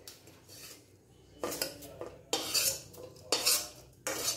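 A metal spoon scrapes around a pan in a few bursts, clinking against the sides while stirring a spice tempering, with brief quiet gaps between strokes.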